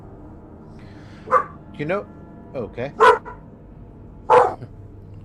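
A dog barks several times in short, loud, close bursts indoors, with a pause between groups of barks, and a person speaks briefly.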